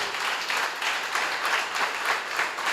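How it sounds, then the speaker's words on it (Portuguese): A church congregation applauds during a celebration service, a sustained wash of many hands clapping at moderate distance, steady and fairly soft without pause. "Vamos aplaudir ao Senhor"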